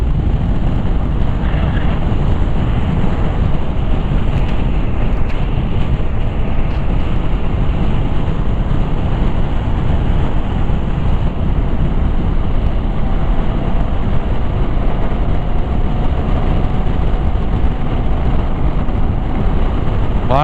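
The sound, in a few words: wind blowing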